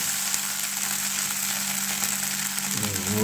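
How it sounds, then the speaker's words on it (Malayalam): An egg dish with oyster sauce fries in a pan with a loud, continuous hissing sizzle, and a brief stir shifts the sound near the end. "ഇവിടെ കുറച്ച് ഇളക്കാം ഭയങ്കര ഇളക്കാനും പാടില്ല"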